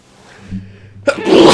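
A single sharp sneeze bursts out after a quiet, breathy build-up, loud and close.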